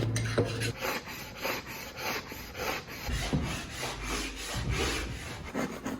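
A homemade scraper of metal fixed to a tree branch scrapes membrane from rawhide stretched on a frame, in repeated rasping strokes of uneven rhythm, close and fairly quiet, with no talk.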